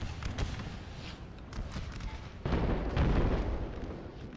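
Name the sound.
artillery fire in video game Napoleon Total War ACW mod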